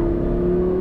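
An Audi R8 V10 on a race track pulls under throttle, a brief, steady engine drone heard from inside the car.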